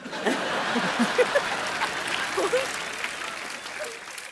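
A studio audience on a TV comedy show applauds steadily for several seconds, dense clapping with a few chuckles and snickers mixed in at moderate distance.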